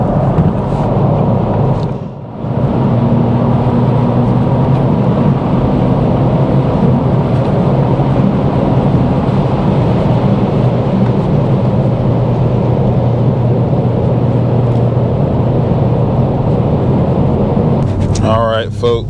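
A 2024 Acura Integra Type S driving in comfort mode, its engine and road noise forming a steady, loud drone that runs throughout, briefly dipping once near the start.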